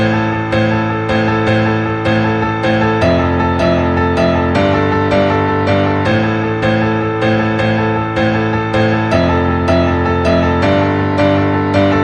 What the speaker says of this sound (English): Impress your friends with this simple but awesome piano melody.